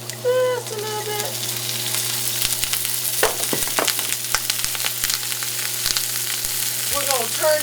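Acorn squash frying in olive oil in a hot pan, a steady soft sizzle with scattered sharp crackles and pops, a faint whistle-like tone near the start and end.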